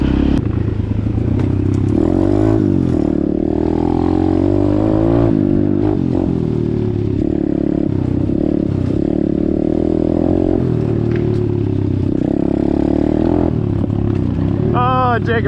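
An Apollo DBX15 Chinese pit bike engine drones loudly and close through a ride, its pitch rising and falling with throttle changes while parts of the bike rattle.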